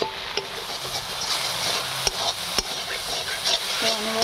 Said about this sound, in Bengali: কিন্তু অনবরত এতে নাড়তে হবে